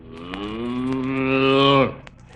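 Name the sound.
cow mooing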